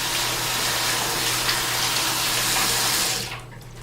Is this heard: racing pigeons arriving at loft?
no